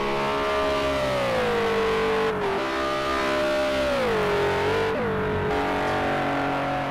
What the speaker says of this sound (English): You hear the engine noises going off in the background, these beautiful V6 engines.